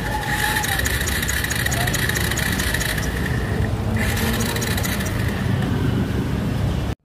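A Bajaj Pulsar motorcycle with a fuel-dirt fault is being started, a loud, close engine clattering and churning steadily with a brief dip midway, then cutting off abruptly at the end.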